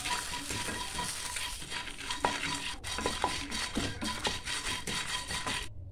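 Ginger, garlic, mint and curry leaves fry in a pan with a continuous close sizzle, while a utensil scrapes and clinks against the metal repeatedly throughout and the sound cuts off abruptly at the end.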